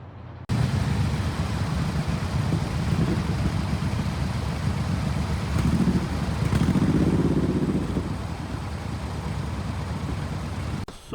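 Many motorcycles lined up in a queue, their engines idling together in a steady, close, continuous rumble with light mechanical clatter throughout.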